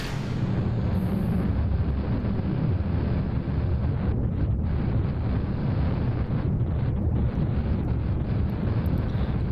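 A rocket engine roars in Kerbal Space Program, a continuous loud low rumble that holds steady throughout with no break.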